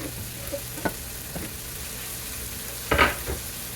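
Frozen peas cook in a pan, a soft low sizzle running throughout, broken by a few quiet stirring scrapes and one louder clatter near the end.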